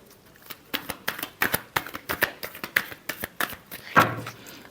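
Tarot cards are shuffled by hand in a rapid, close run of crisp riffling slaps and taps, about a dozen bursts in under five seconds, ending with a sharper card knock.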